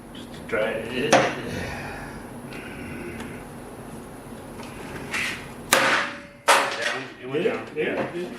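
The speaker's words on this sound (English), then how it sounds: "Use a real hammer on top of this." A hammer strikes a seized nut on an old machine being restored, giving several sharp metallic knocks spaced unevenly through the clip, with people talking nearby between and over the blows.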